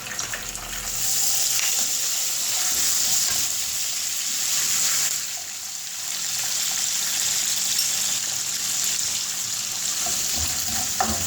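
Coarsely crushed ginger and spices fry in a pan for cabbage sabzi, making a steady hissing sizzle that swells and dips slightly, close by, with a few faint stirring scrapes and no speech.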